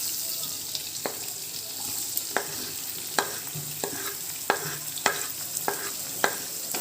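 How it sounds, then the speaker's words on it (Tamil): Onions and garlic frying in a pan for Tamil-style chicken chuka, a steady sizzle with a spoon scraping and clicking against the pan at irregular intervals. "பூண்டை ஒரு வதக்கிட்டு இப்போ நம்ம வெங்காயத்தை அது கூட ஆட் பண்ணுறோம்."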